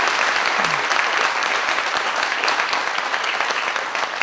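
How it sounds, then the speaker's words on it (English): A large audience at a physics lecture applauds steadily to welcome a speaker, a dense, even wash of clapping that holds throughout without a clear voice over it. "let's give a big round of applause"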